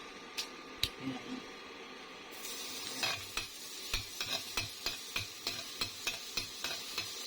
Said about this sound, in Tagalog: So, kukunin ko na yung garlic o bawang. Unahin natin siyang igisa.